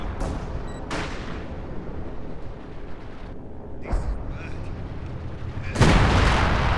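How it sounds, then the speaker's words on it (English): Howitzer artillery fires in the Company of Heroes 2 strategy game during a Soviet versus Wehrmacht battle. Several sharp booms land about a second or two apart over rumbling battle noise, and the last blast is the loudest. "Oh, he did build a howitzer. Interesting. Where's that landing, though?"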